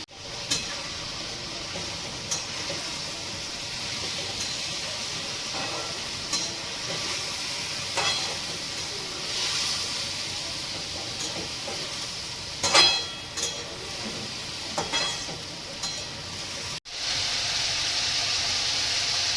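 Cluster beans cooked with green chilli masala are stirred in a pan, giving a steady soft sizzle with occasional scraping clinks of the spoon, moderately close, with no talk.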